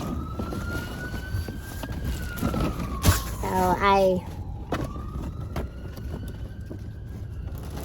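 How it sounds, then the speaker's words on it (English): An emergency vehicle siren wails faintly in the distance, its tone slowly rising and falling over low background noise, with a brief voice midway. "I can hear those sirens in the back."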